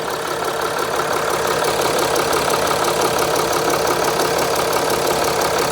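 A Mercedes-Benz GL350 with an intermittent crank-no-start and power-loss fault runs at idle, loud and close, giving a dense, even mechanical clatter with a faint ticking rhythm and no talking.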